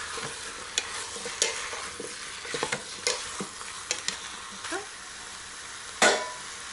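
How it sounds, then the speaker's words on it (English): Vegetables sizzle in fat and oil inside an Instant Pot while a spoon stirs them. A constant frying hiss sits under a string of irregular scraping and clacking strokes, one louder knock near the end, and no voices. "And just give it a quick stir to let it let the veggie cover in the fat and the oil that we added in before"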